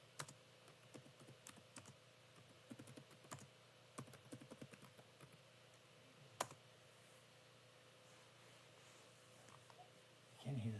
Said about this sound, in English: You can hear the typing too.